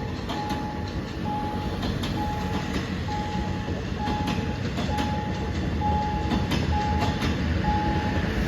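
A diesel locomotive, number 5220, hauls special express train 23 from Bangkok to Ubon Ratchathani past the Si Ayutthaya Road level crossing. A loud, steady rumble runs throughout with rhythmic wheel clatter and a repeating tone.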